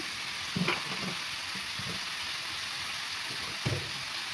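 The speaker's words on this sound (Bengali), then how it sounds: "হলুদ গুঁড়ো, জিরা গুঁড়ো, সব কিছু দিয়ে এবার আমি কষিয়ে নিব" Bottle gourd fries with turmeric and cumin powder, giving a steady close sizzle broken by a few soft scraping stirs of the spoon, with no talking.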